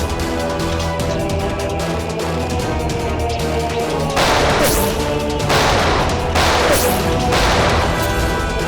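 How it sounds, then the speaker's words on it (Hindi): Gunfire in a CID crime-drama scene: loud bursts of shots and crashing impacts come in several waves over a constant tense background din. "बहुत जल्द गोलियां खत्म हो जाएंगी।"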